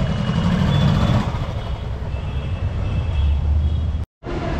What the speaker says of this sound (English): Godwin has started riding the bike.